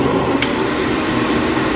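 Steady, loud whooshing hum of a newly bought electric air blower running continuously, close by, with a brief click partway through and no talking.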